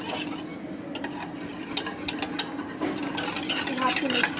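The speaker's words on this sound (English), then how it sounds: "Now mix the batter with the egg, but mix it very fluffy" A utensil stirs cupcake batter and egg in a bowl, giving steady scraping and soft tapping with sharp clicks against the bowl, while a voice talks in the background.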